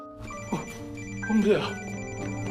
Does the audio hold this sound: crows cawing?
no